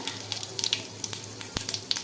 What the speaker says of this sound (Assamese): তৰকাৰীখন বনাবলৈ মই ইয়াত কেৰাহীত তেল গৰম কৰি ইয়াত দি দিছোঁ জিৰা